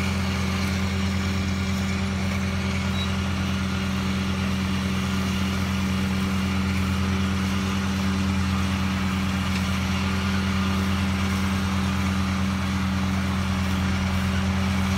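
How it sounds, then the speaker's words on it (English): A Ford 4610 tractor engine runs in a hay field during mowing with a Hesston 1000 series disc mower, giving a steady, unbroken low drone for the whole stretch with no talking. "Got the 46 10-4 tractor back in the field."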